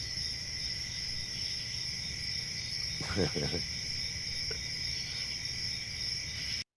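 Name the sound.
cricket chirping sound effect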